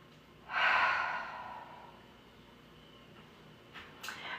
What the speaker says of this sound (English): One more breath in and out.